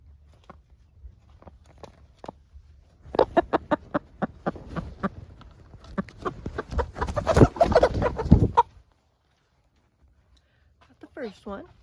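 Chickens in a coop give a burst of loud, close clucks and squawks with scratching and shuffling as birds are handled, preceded by scattered sparse sounds, then a pause and a few distant calls near the end.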